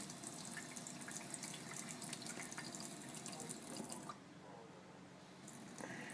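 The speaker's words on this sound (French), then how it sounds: "il vous suffit de faire couler l'eau chaude à petit filet" Hot water runs from a tap in a thin stream into a sink, a steady close splashing trickle that stops abruptly partway through, then resumes faintly.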